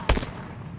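A single sharp report from a sniper rifle in a capture-the-flag video game, one loud close crack with a short echoing tail.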